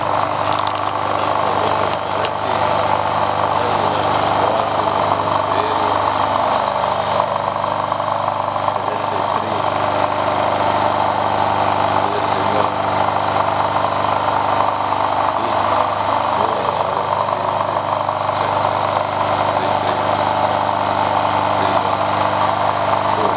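A three-phase electric motor run on 230V with a 15 microfarad capacitor, giving a steady, loud, close hum with a constant mechanical drone, and someone talks quietly over part of it.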